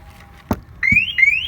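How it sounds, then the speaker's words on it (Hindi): The security alarm siren of a 2020 Maruti Vitara Brezza starts up after a couple of dull thumps from the car, sounding a loud, close, warbling electronic tone that rises and repeats. "एक बार सायरन बजाएंगे हम, मतलब छेड़छाड़ करेंगे कार से, इसका सायरन बजे, सिक्योरिटी अलार्म"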